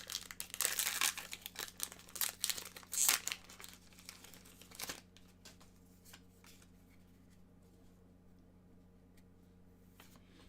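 Crisp crinkling and tearing of a Pokemon card booster pack wrapper being opened up close, dense for the first few seconds, then fading to a near-silent room hum.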